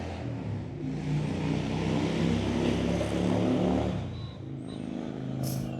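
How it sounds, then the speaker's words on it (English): An engine roars steadily as a motorbike goes by on a nearby road, the noise swelling and then easing off. "You hear that motorbike going past there?"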